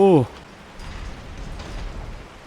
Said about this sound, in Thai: ตรงนี้ก็ยังฝนตกเหมือนเดิม